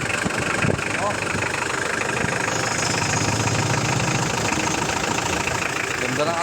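Hyundai Starex van with a D4BH diesel engine, freshly fitted timing belt, running at a steady mid-pitched idle with a continuous rattle close by, while someone talks over it.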